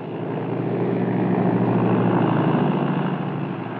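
Propeller plane engines drone steadily on a cleared ice strip on a frozen Arctic inlet, a loud continuous roar that swells and fades slightly with no voices.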